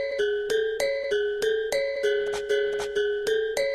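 A chopped, looped sample from a song repeats a short bright melodic figure in steady rhythmic cycles, played alone at moderate level with no talking.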